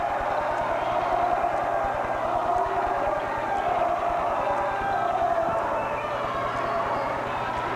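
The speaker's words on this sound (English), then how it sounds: "The Elida fans give the air ball cheer" Elida basketball fans chanting the air ball cheer in a gym at a 1994 high school sectional tournament game, a steady roar of crowd voices under a commentator's talk.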